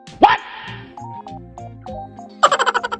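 A dog gives a couple of sharp barks, with faint tonal chimes between them, then a quick burst of yips at the end.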